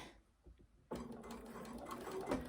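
A home sewing machine stitching a hem on a garment starts up after a quiet moment and runs steadily with a fast, even whirring hum to the end, close to the microphone.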